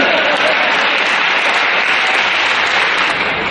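Audience applause at a Hindi poetry recital, loud, dense clapping that fills the room continuously and close up from start to finish.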